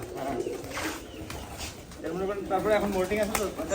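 Pigeons at a pigeon farm coo softly and repeatedly nearby, mixed with a wing flutter, while people talk over them.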